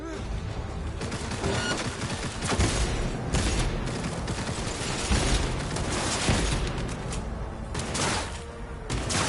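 Heavy sustained gunfire in a Cyberpunk 2077 firefight, dense bursts and rapid shots rolling continuously at high loudness, with muffled voices shouting underneath.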